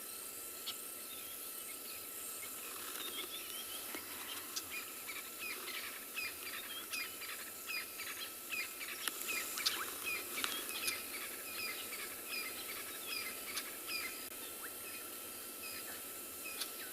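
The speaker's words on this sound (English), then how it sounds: "listening to the bird sounds" Birds calling at sunset on an African safari, with scattered chirps and tweets over a constant high insect and cricket drone; faint and distant, with no talking.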